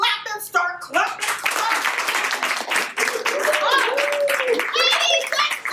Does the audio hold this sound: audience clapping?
yes